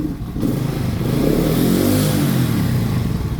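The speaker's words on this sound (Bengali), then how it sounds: "ইঞ্জিনের সাউন্ড কিন্তু একবারে খুব সুন্দর আছে।" A used Dayang AD 80s motorcycle engine runs loud and close, a steady buzzing drone that swells slightly as the throttle opens.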